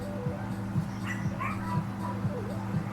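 A young girl imitates a dog barking from another room, producing a string of short, repeated yips and woofs in steady rhythm, faint and somewhat distant.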